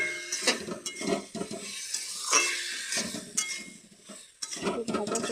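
Whole spices such as cardamom, cinnamon, mustard and poppy seeds fry in a pan with a steady sizzle, broken by scraping stirs and light clinks of utensil on metal.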